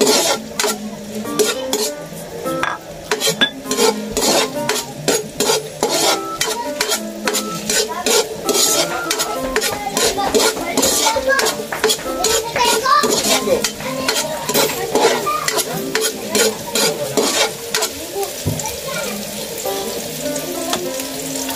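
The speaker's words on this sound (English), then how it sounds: "Saute natin to guys until matranslucent ang ating onion." Onion sautéing in a pan for pork adobo, a loud close sizzle with rapid, rhythmic scraping and clinking of a utensil stirring against the metal pan throughout, no talking.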